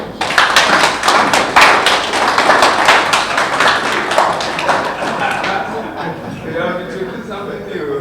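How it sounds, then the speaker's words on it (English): Loud applause for senators at a Senate committee on capital market event, dense clapping from a large audience that swells early and slowly thins out, with a voice talking faintly near the end. "May we give all the distinguished senators a very big round of applause."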